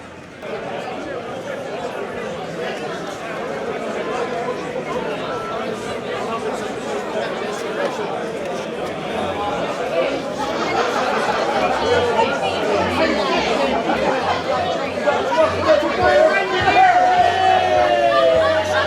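A big crowd fills the Jolly Roger bar on Levante Beach in Benidorm on Cheltenham race day, a dense, steady babble of many voices that swells louder as the listener draws closer, with cheers and music rising near the end.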